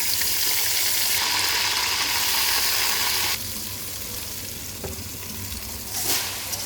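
Onions fry in plenty of oil for bhuna khichuri, a steady close sizzle throughout that drops to a softer, lower crackle partway and then swells briefly near the end.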